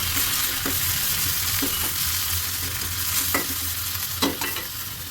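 Onion, garlic and ginger fry in hot oil in a wok, giving a steady, close sizzle broken by a few sharp scraping stir strokes, with no talk.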